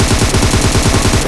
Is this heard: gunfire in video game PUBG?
yes